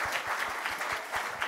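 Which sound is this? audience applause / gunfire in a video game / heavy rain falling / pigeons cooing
audience applause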